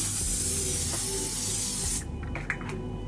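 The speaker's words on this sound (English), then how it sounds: "It's the L'Oreal Infallible Setting Spray, so on days when I do need my makeup to just stick to my face, I use this" L'Oreal Infallible Setting Spray misted onto a face: one steady, close hissing spray lasting about two seconds, then stopping abruptly and leaving a few faint handling sounds.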